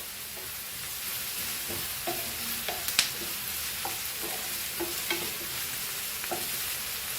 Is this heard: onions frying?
yes